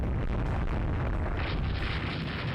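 Naval gunfire in the Rule The Waves 3 warship game: dense, continuous rumbling booms and blasts that blend into a loud, unbroken roar, with no speech.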